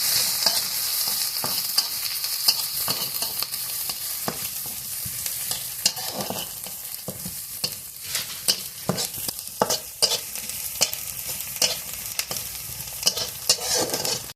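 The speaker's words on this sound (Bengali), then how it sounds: "পেঁয়াজ কুচি দিয়ে দিচ্ছি রসুন কুচি আদা কুচি এখন সবগুলো আমি লাল লাল করে ভেজে নেবো" Chopped onion, garlic and ginger frying in a pan for a Bengali village-style curry, with a constant bright sizzle and frequent scraping stirs of a spatula, close and steady throughout, no voices.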